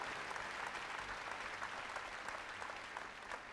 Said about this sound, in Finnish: Annetaan vielä kerran raikuvat aplodit näille upeille oman alansa huippuosaajille, ammattilaisille